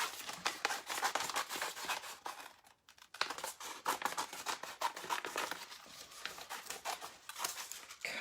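Scissors cutting out paper, a continuous run of close crisp snips and rustling crinkles with a brief pause midway, fairly quiet and without speech.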